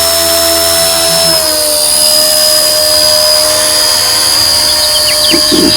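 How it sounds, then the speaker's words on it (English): A WLtoys K170 Black Hawk UH-60L flybarless RC helicopter spins up its rotors outdoors, a loud, close, high electric whine with a steady tone that shifts slightly in pitch, alone without voices. "So now to start the rotors, pull it back like that."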